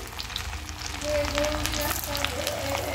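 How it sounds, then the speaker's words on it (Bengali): Potatoes sizzle in a pan of ghee with a little white oil, a steady close crackling fry that grows slightly louder partway through. "ঘি দিয়ে ভাজছি, সামান্য একটু সাদা তেল দিয়েছি"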